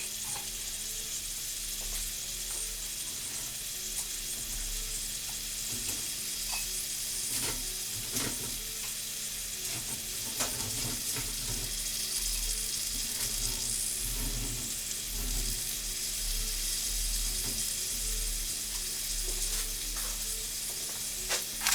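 Chicken wings tossed in a bowl of Parmesan garlic sauce make a continuous wet, sticky slosh with scattered clicks against the bowl. The sound is moderately quiet and steady, with no voices.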